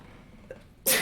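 A single loud, sudden sneeze close by at the end of a quiet moment during a tabletop Dungeons & Dragons session.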